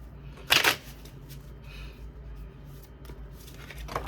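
Tarot cards are shuffled and drawn from a deck, with one sharp riffling burst early, then quieter card handling and light taps against low room hum, no talking.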